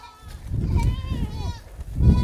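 Nanny goats bleat close by on a ranch threatened by the Smoke Rider Fire, a few wavering, nasal calls overlapping against a rumbling background.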